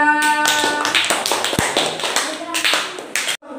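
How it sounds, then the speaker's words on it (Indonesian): Classroom applause for a student group, a dense burst of many hands clapping close by for about three seconds, with voices mixed in and a brief gap near the end. "beri tepuk tangan untuk kelompok 3"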